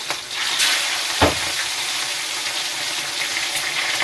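Fish frying in hot oil with a steady, close sizzle and crackle, broken by a brief louder spatter about a second in; no talking.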